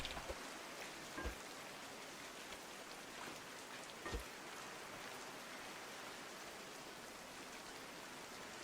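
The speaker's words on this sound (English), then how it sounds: "It comes with rain sounds." Ambient rain in a farming video game patters as a soft, steady hiss with a few faint drop-like taps, quiet and continuous with no talking.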